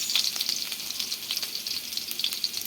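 Garlic fries in hot oil with a close, steady sizzle and crackle that pops and spits in quick irregular bursts, with no talking.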